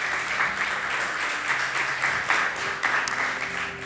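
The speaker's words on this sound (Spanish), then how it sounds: "Denle un fuerte aplauso al Señor" A church congregation applauds during a worship service, a steady wash of many hands clapping at moderate distance, continuous and fairly even throughout.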